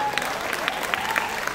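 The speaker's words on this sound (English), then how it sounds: "A round of applause" Applause from a festival audience before a patriotic dance performance, a steady wash of clapping with a few sharper individual claps and some faint voices mixed in.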